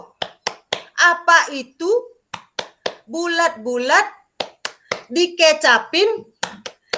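Sharp hand claps in a fast rhythmic pattern accompany a chanted Indonesian clap game called tepuk bakso, led by one voice in a classroom-style session, each clap crisp and close between sung phrases.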